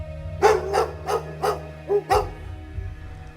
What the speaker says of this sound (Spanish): Los perros de la familia comenzaban a ladrar, aullando de manera frenética